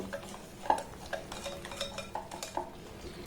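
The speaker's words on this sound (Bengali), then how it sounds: "আবার এটাকে আমি খুব সুন্দর করে ব্লেন্ড করে নেব।" Spoon clinking and scraping against a bowl while semolina and chhena cake batter is stirred, a run of light, fairly close taps and knocks over a quiet background, with no talking.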